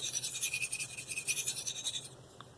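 A D2 steel Eafengrow CH3001 knife rasps across a Spyderco medium bench stone in quick, steady back-and-forth strokes, close and crisp, stopping near the end.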